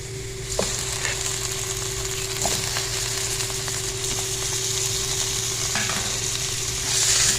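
Chicken hits the pot for yakhni and sizzles in a steady, close hiss of frying, with occasional stirring clicks and a constant low hum beneath, the sizzle swelling louder near the end.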